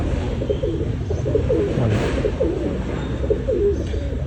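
Pigeons kept for sale in Tarn Taran coo softly and steadily, with repeated low throaty calls close by over a faint background hum and no talking.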